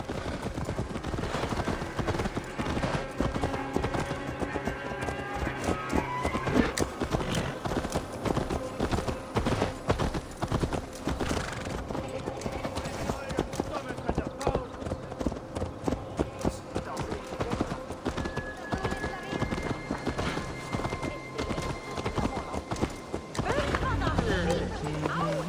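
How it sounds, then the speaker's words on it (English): Horse hooves clip-clopping in the Assassin's Creed Valhalla video game, a rapid rhythmic run of hoof beats throughout, with a whinny, distant game gunfire-like bangs and character speech mixed in. "Let's return the horse."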